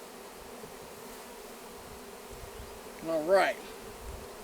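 Honeybees buzz in a loose, steady drone around a Bravo 1 hive during installation on a ranch, with a brief louder rising buzz near the end as a bee passes close; a few words are spoken.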